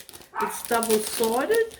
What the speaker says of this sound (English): Sorry if you hear my dog barking, I don't know what he's barking at.